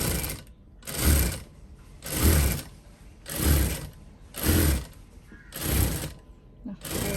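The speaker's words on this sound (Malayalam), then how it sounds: "ഇനി ക്രോസ് പീസ് വെച്ചിട്ട് ഞാനൊന്ന് തയ്ക്കാൻ പോവുകയാണേ" A sewing machine stitches a cross piece onto a sleeve armhole in bursts of steady whirring, about six runs separated by short pauses, loud and close, with a voice speaking between the bursts.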